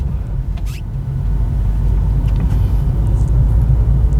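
Steady low engine drone and road rumble from inside a Hyundai Verna 1.6 petrol sedan on the move, loudness swelling slightly after the first second and then holding even, with no talk.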